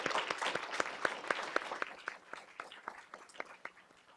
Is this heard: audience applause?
yes